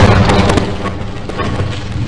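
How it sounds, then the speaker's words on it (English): A loud, sustained rumbling explosion in Half-Life fills the clip, with dense booming impacts and crackling debris that slowly settle. "Explosions are awesome."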